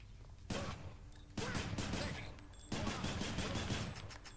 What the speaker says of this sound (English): Yeah, just full-on minigun.